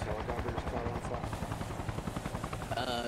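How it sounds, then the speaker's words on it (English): A military helicopter in Arma Reforger spins up for takeoff, its rotor blades giving a rapid, regular chopping pulse that stays loud and close throughout the short stretch. "if they spin fast enough, the helicopter will take off"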